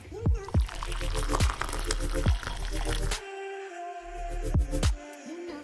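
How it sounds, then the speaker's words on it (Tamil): Water pours into a blender jar of grated coconut while coconut milk is being made, a close, splashy trickle with irregular sloshes and clinks through the few seconds. "இனி இதில் ஒரு கப்பலுக்கு மட்டும் தண்ணி சேர்த்துட்டு பிளெண்ட் பண்ணி எடுக்கிறேன்"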